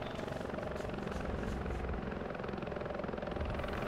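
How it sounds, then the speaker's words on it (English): A helicopter in the video game Arma, a loud continuous rotor thump and engine drone filling the whole stretch, steady and close, with no talk over it. "The helicopter's still going."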